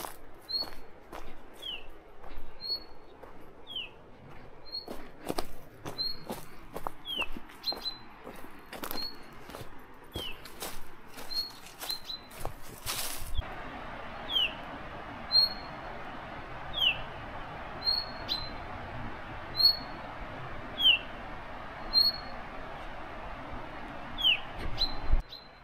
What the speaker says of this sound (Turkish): Şu kuşu duyuyor musunuz ya?